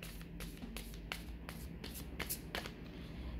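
A deck of oracle cards is cleared and shuffled, producing a quick run of crisp riffling snaps and soft slaps close by, steady and fairly quiet, with no voice.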